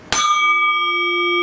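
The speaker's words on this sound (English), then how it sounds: "These are bells, aren't they?" A small bell on a toy three-wheel ATV is struck once, giving a bright, close metallic ding that rings on with a long, steady sustain.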